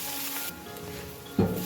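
Chopped onion and tomato fry in hot oil with a steady hiss that drops slightly partway through, then a soft thud and a fresh burst of sizzling near the end, close by with no talking.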